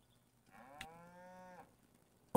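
A single long moo from a cow in Farming Simulator 20 sounds clearly and alone against near silence, followed by a sharp noise at the end.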